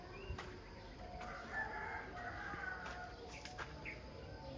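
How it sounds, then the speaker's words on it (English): Chickens and a rooster in their coop at a Cambodian home sound faintly at a distance, with soft clucks and short calls over a low, steady outdoor background. "This is where the chickens stay."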